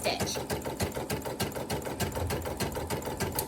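An embroidery sewing machine stitches a satin stitch along an appliqué edge, with a loud, close, rapid and steady mechanical rattle that runs throughout.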